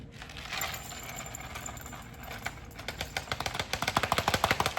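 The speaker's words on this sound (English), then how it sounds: "So let me just dump them in my little cup here." Dried luffa seeds pour into a small cup, starting as a soft scattered patter and building into a dense, quickening rattle of hard little seeds clicking together, close and fairly quiet.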